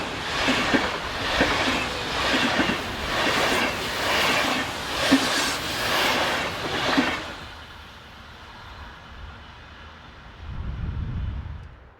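The 07:32 Hamburg–Frankfurt train heads south through the Rhine Gorge, its wheels beating in loud, evenly spaced clatters for about seven seconds before the sound suddenly drops to a faint hum. A low rumble follows briefly afterward.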